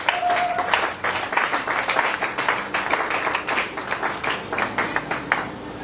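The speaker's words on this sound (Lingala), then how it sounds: "On va acclamer même très fort le Seigneur." Church congregation applauding and cheering in praise of the Lord, steady dense clapping throughout with a brief held tone near the start, no talk over it.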